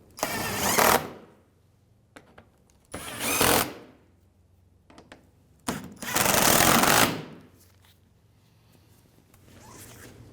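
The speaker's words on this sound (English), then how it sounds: "with our 10 mil, we'll just tighten these up" A 10 mm ratchet wrench tightens bolts on a 2015-2019 Hyundai Sonata lower control arm, with three loud bursts of fast ratcheting clicks separated by quiet pauses and small clinks.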